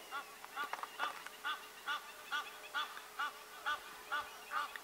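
Egyptian geese honk in a regular rhythm of about ten sharp, nasal calls, at moderate distance in the open bush of Kruger Park near Shingwedzi.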